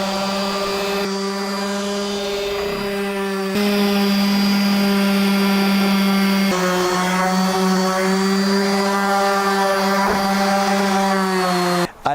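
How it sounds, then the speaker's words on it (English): A power sander with 120 grit sandpaper works a wooden headboard, a loud, steady, close-up motor hum with a whining tone that shifts in pitch as pressure changes, running continuously without talk. "I'm going to do some sanding with some 120 grit sandpaper."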